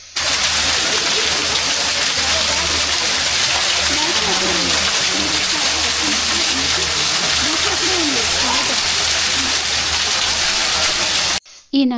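Water gushes from a spout in a Nandi statue at Yaganti temple. A constant loud, broad rushing splash fills the scene, with people talking over it before it cuts out at the very end.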